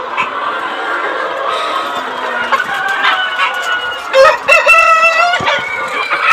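Hubbard-coloured chickens in a poultry control shed with automatic nipple drinker lines cluck and squawk constantly nearby, with a rooster's crow rising loudly near the end over the busy flock.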